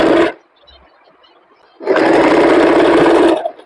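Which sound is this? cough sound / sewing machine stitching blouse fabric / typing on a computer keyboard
sewing machine stitching blouse fabric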